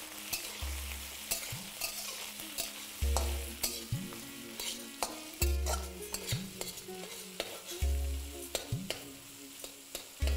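Diced tomatoes and capsicum with curry leaves fry in a pan for bisi bele bhaat, a continuous sizzle under repeated close stirring strokes and scraping in a regular rhythm, with no voices.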